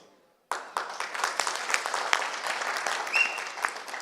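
Applause from an audience breaks out after a brief quiet start and continues steadily, a dense wash of many hands clapping at once.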